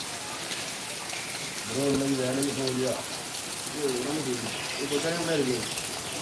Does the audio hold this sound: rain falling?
yes